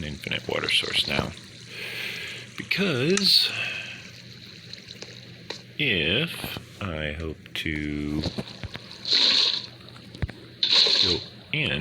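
Water pouring from a bucket in Minecraft Bedrock Edition, short hissing bursts that come and go between stretches of someone talking over it.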